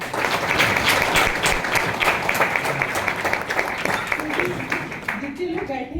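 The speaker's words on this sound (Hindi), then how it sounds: "क्या खड़े हुए लोगों को ताली बजा सकते हैं?" Audience at a motivational health and lifestyle event applauds, a dense sustained burst of clapping from a crowd that fades slightly toward the end.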